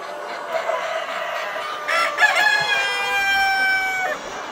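A hybrid laying-breed rooster lets out a drawn-out crow amid surrounding clucks from a flock of hens, moderately near over a constant farmyard background.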